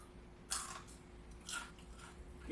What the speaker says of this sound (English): I don't know if you can hear me crunching them.